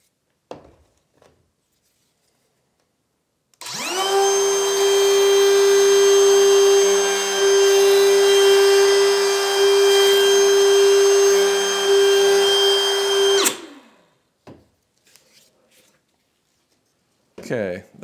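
Plunge router cutting a deep mortise for pocket door hardware, a loud steady high-pitched whine running about ten seconds, with brief quieter handling sounds before and after.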